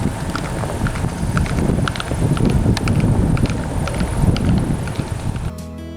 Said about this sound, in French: Je vous laisse écouter le sabot des chevaux, parce qu'il est au galop sur la route.